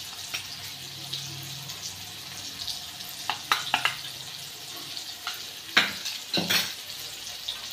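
Ginger, garlic and coriander paste fries in a pan for fansachi bhaji, a steady sizzle broken by several sharp spoon scrapes and clatters toward the end, with no speech.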